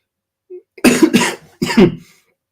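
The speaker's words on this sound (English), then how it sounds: "I have a bad cold, so I will be coughing a bit" A close, loud cough from someone with a bad cold comes in a quick burst of two hacks, then one more after a short pause, with silence around it.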